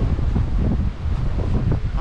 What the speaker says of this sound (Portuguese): porque o vento vem vindo daqui